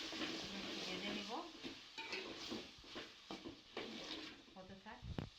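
Spices from a noodle seasoning packet frying in a pan, a steady sizzle broken by scraping stirs and a few clinks of a utensil against the pan.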